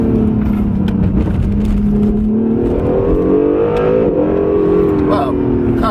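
A 2017 Acura NSX hybrid supercar accelerates hard on the road, its engine note rising and sweeping up steadily, loud and close from inside the cabin with a voice speaking over it.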